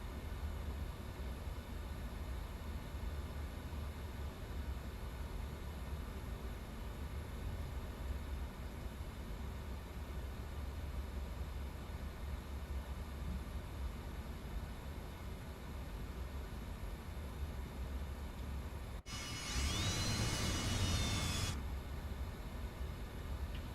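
Steady broadband roar of Fokker airliner engines spooling for takeoff in Microsoft Flight Simulator 2024, a constant loud rumble holding for most of the stretch, then a brief brighter whooshing burst near the end.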